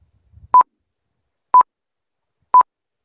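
Three evenly spaced short electronic beeps, one per second, counting in a voiceover recording in iMovie, clean and clear against silence.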